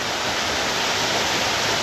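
Water pouring down a waterfall into a stream in Portugal, a steady, full-bodied rushing roar that holds evenly loud with no break and no voices.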